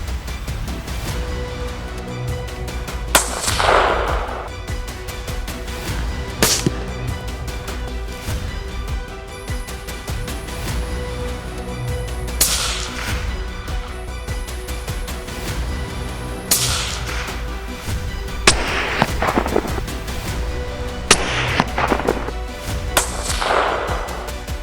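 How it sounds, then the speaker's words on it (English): Suppressed shots from an A10 rifle fitted with a thermal scope and silencer ring out during a wild boar hunt in Manitoba, several sharp cracks spaced irregularly over a busy background. "The A10 rifle is equipped with a thermal scope and a silencer to increase accuracy and reduce noise."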